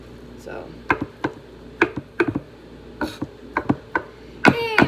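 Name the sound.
chopping food on a cutting board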